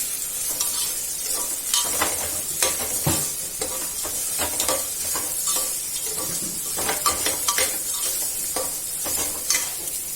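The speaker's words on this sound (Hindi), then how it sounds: "अब मैं इसको इसमें सोयाबीन की बड़ी डाल रही हूँ, इसको भी भूनूंगी टमाटर के साथ अच्छे से" Soybean chunks and dal frying with tomato in a pan, a steady hiss of sizzling oil broken by repeated scraping and stirring strokes of a spoon against the metal.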